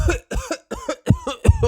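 A voice imitates a child's nasty cough for Pedro Pony in a Peppa Pig read-aloud: five voiced, rhythmic hacks in quick succession, close and fairly loud.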